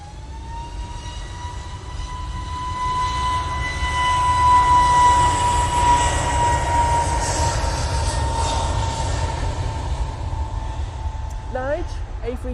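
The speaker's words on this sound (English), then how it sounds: "A321 Neo now departing off to London, mate." An Airbus A321neo departs Manchester Airport on its takeoff roll, a steady broad engine roar with a sustained whine that swells and holds, with faint voices near the end.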